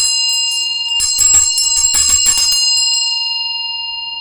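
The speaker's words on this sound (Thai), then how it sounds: "เสียงระฆังมีความกังวานมากนะคะ" A 6.5-inch Nepalese bell rings with a long, shimmering metallic tone. It is struck again with a brief rattle, and the resonance fades slowly.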